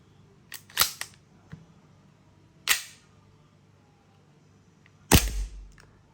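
Several sharp shots from a gas-powered Tokyo Marui Samurai Edge Hi Grade airsoft pistol, sparse and irregular, with a quick double crack near the start and a louder, ringing final shot; no talking.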